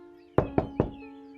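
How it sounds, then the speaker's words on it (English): Three evenly spaced heavy knocks from a door knocker sound at the door of a house on a quiet street, each a solid thud with a short ring, over a steady low hum. "I reached the door and grasped the door knocker, chapping 3 times."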